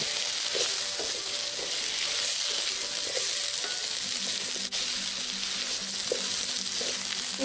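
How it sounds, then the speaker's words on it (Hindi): Eggplant in a sizzling masala pan, a loud continuous frying hiss with scattered crackles and scraping stirs and one brief dip near the middle, no speech. "अब हम इसमें हमारे बैंगन ऐड करेंगे।"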